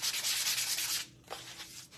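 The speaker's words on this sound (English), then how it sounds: "a sanding block or sandpaper takes care of it" Steady rough rasping of a sanding block rubbing paint, a long stroke followed by quieter, shorter scrubbing passes, close up.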